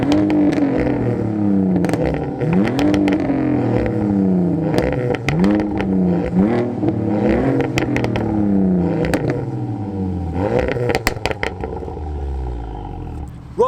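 A straight-piped BMW Z4 revs hard and loud nearby, its engine note rising and falling in repeated sharp blips and swells with no one talking.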